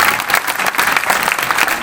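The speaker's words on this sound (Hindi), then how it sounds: "एक बार जरा इनके लिए जोरदार ताली बजाओ।" Dense, steady applause from an audience at a Hindi poetry gathering (kavi sammelan) in Udaipurwati, a continuous wash of many hands clapping loudly.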